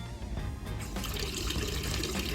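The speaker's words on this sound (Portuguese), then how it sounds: "nesse momento a bomba está ligada e vai encher a caixa até acionar o sensor" Water rushes steadily into a household water tank as an electric pump fills it from a lower reservoir, a dense continuous splashing flow that holds even and fairly loud throughout.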